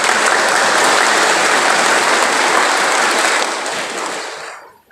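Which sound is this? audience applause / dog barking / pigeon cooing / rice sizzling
audience applause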